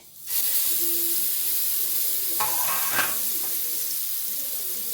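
Food shallow frying in a pan gives a steady, close sizzle and hiss throughout, with a couple of brief louder crackles and clinks partway through.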